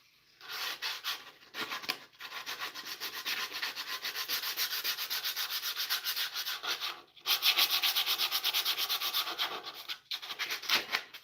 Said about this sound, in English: The sanding is going to get faster.